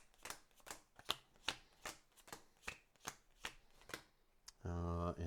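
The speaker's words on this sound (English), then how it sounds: "Then we'll shuffle this up again." Playing cards from the 7th Continent board game are shuffled in a quick run of about ten crisp riffling bursts, close and fairly loud, ending in a sustained buzzy tone.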